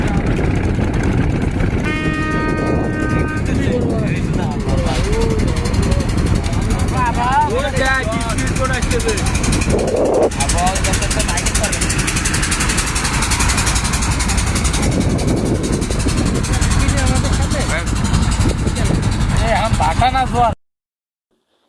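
A trawler boat engine with a fault that limits its pulling power drones steadily at close range in the Sundarbans, a low rumbling hum with people talking over it.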